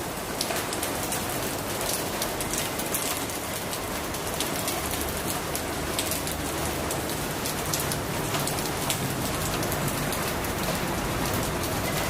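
Heavy monsoon rain pours down steadily and densely, a continuous close hiss of drops hitting surfaces that holds evenly throughout, with faint bird calls barely audible behind it.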